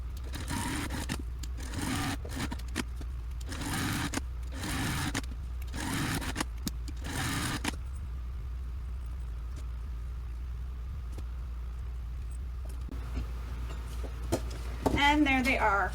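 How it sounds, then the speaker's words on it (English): A sewing machine stitches along the folded edge of fabric strap connectors for a business bag, running in several short rhythmic bursts up close, then falling quiet before a voice speaks briefly at the end. "I'm then going to stitch along the folded edge or finished edge using a 1/8 of an inch seam"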